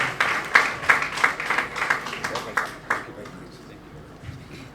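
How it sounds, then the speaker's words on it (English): Applause from an audience at a university language centre launch event, a burst of clapping in the first three seconds that thins out toward the end, with some voice activity mixed in. "A round of applause as he joins us."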